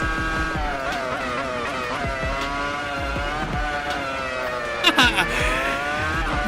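A Williams FW26 Formula 1 car in a racing video game at the Canadian Grand Prix screams through rising and falling revs, with quick gear shifts and a brief louder burst near the end.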